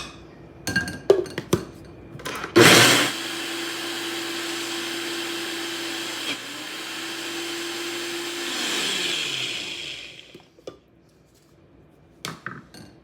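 An old blender churns cream into homemade butter, starting after a few clattering knocks and a loud surge, then running as a steady whining motor drone that dips briefly midway, winds down near the end, followed by more handling clatter.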